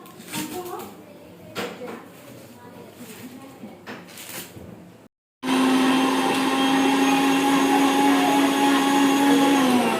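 A kitchen blender whirs loud and steady, blending fruit juice for a Ramadan iftar gathering. It starts after a few seconds of clattering and movement and then runs continuously to the end.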